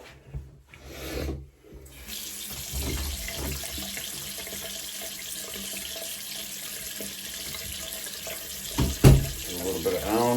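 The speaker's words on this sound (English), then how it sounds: "I'm gonna flip on the cold water" Cold water runs from a tap into a sink in a home shaving room, a steady hiss under a few clunks and rubbing handling noises, with a sharp knock near the end.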